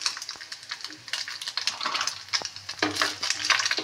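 Crackling, popping sizzle of fish frying crisp in hot oil, with irregular bursts and occasional clinks of a utensil against the pan.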